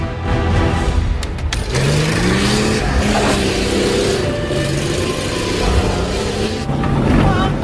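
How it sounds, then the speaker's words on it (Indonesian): A car in the film Bloodhunt drives off: a loud engine revs and accelerates in rising sweeps, with a sharp clatter early on and continuous roaring motor noise throughout. "Sidin dan si Clary mencoba kabur dari sana, dan mereka pun berhasil menggunakan mobil si Acong"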